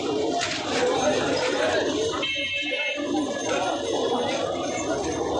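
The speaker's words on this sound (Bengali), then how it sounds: "খুব ভালো মানের কবুতর, দেখে বোঝা যাইতেছে আর কি।" Pigeons coo in a crowded Gulistan pigeon market amid loud crowd chatter and a brief high electronic tone, with the bird calls partly masked by voices.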